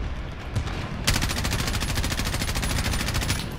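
Players in Modern Warfare open fire on a tank, a dense stream of rapid automatic gunfire kicking in after a quieter second and rattling on loudly and steadily to the end.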